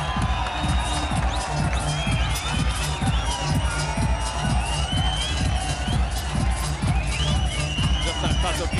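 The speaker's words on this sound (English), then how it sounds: "The crowd appreciating just about everything here, the boxing, the arrangements." A large indoor crowd at a professional boxing event in Delhi cheers and roars steadily, with shouts and whistles rising above a dense babble of voices.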